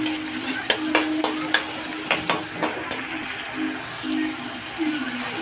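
Tomatoes sauté in a pan for miso sinigang with milkfish, a steady soft sizzle broken by a few sharp utensil clicks and scrapes as they are stirred.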